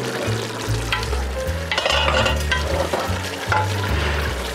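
Bell pepper goes into a hot pan of vegetables for a homemade bean salad, giving a close, continuous sizzle with stirring scrapes over background music.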